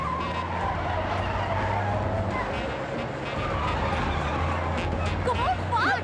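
A car speeds through a movie chase, its engine roaring continuously and close, with sharp tire squeals rising near the end over a busy, dense mix.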